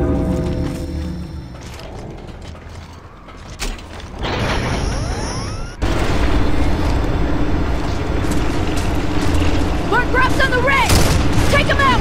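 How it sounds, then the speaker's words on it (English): Grub Gun weapon fire in the Gears of War Judgment video game: heavy mechanical clanks and booming blasts give way to a dense, sustained roar of game combat, with a voice speaking over part of it. "I gotta say, Grub Gun's got a big bang."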